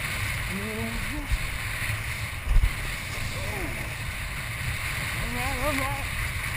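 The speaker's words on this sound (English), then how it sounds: "Get a little wind here." Wind buffeting the microphone during kiteboarding out on open water, a steady low rumble and hiss running throughout with a couple of brief gust thumps, while faint voices speak over it.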